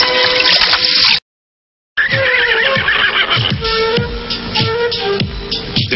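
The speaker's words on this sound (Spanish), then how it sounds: "Un caballo. Una yegua." A horse whinnies loudly and close, its neigh breaking off and then continuing in a long, wavering call.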